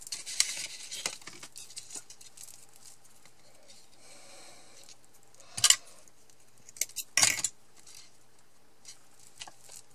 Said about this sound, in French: je vais couper les petits bouts qui dépassent